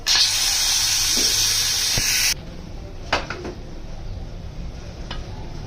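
Steam from a pressure cooker of black chickpeas hisses out loudly and steadily for about two seconds as the weight is lifted, then cuts off abruptly, leaving faint clinks and quiet kitchen background.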